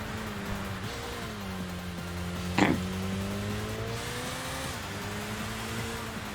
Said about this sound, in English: We even get a bit of backfire on this vehicle